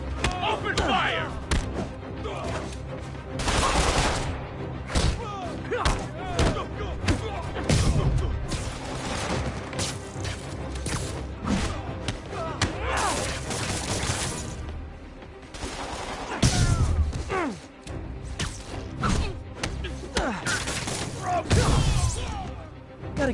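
Gunfire rattles through a Spider-Man video game fight on a Manhattan street, with dense bursts, thuds and impacts filling the whole stretch and game voices talking over the loud, continuous action.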